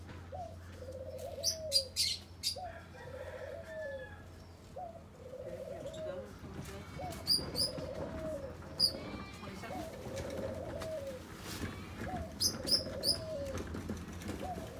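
Caged pigeons coo in repeated soft, throaty phrases at a close, even pace, with sharp chirps and tweets scattered above and a low background hum.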